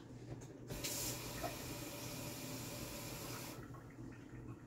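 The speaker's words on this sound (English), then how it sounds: "I'm putting it 4 cups of water." Tap water running into a cooking pot as four cups of hot water are added for an eggplant dish, a steady splashing pour with a brief louder burst near the start.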